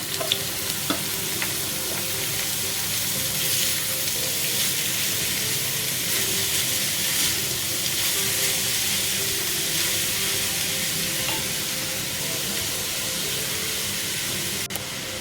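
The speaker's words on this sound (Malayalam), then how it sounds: "നല്ല പോലെ ഒന്ന് ഇളക്കി യോജിപ്പിച്ചു കൊടുക്കാം" Banana flower stir-fry (thoran) sizzles steadily in hot oil with garlic in a pan over a low flame, a continuous close frying hiss with occasional soft scrapes of stirring, no talk.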